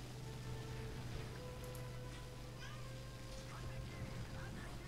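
A cat meows a few times, faint and brief, under a steady hum and background noise.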